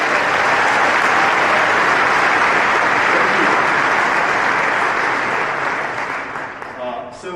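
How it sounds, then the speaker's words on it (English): An audience applauds safety award winners at a corporate keynote event, a loud, dense, sustained wash of clapping that thins slightly toward the end. "So one more round of applause for all of our safety awards."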